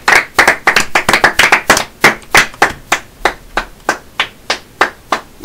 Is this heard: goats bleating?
no